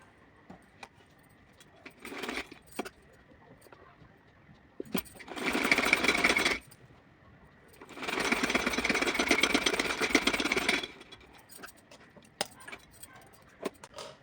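A sewing machine stitches fabric for a small summer outfit, running in three separate bursts of rapid, steady whirring: a short one, then a longer one, then the longest, with quiet pauses between them.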